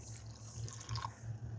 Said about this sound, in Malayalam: ഒരു 1/4 കപ്പ് വെള്ളം ഒഴിച്ചാൽ മതി.